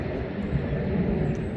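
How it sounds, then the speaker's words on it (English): An aeroplane passes overhead above a backyard garden, giving a continuous low engine drone at moderate distance, steady throughout the short clip. "Sorry about the aeroplane noise"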